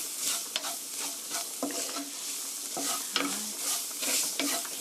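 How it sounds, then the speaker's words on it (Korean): Flour sizzles and crackles as it toasts until golden in a hot pan for a cream sauce, while a utensil stirs and scrapes through it in repeated bursts, close up and steady. "이렇게 밀가루가 노릇노릇하게 볶일 때까지 볶아주세요."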